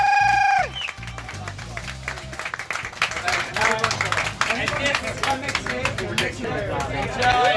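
A crowd at a staff party aboard a boat in London claps and cheers for an award nominee. The applause is loud, with chatter and voices mixed in, and it keeps going steadily after a brief voice at the start.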